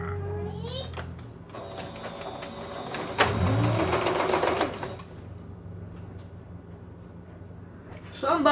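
A sewing machine stitches fabric in a burst of several seconds, a close, fast mechanical whirring. A voice and adult talk come before and around it, and a bright chirp sounds at the end.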